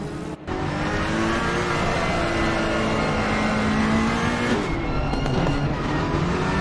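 Race car engine at Brands Hatch in Assetto Corsa Competizione, a loud close engine note climbing steadily in pitch under acceleration, then shifting abruptly and rising again.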